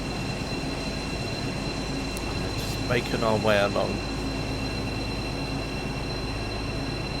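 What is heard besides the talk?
BR218 diesel locomotive train running, from a video game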